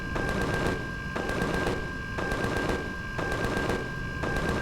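Rapid automatic gunfire in the space survival game Empyrion Galactic Survival, sustained bursts broken by short pauses, loud and close with no talk over it.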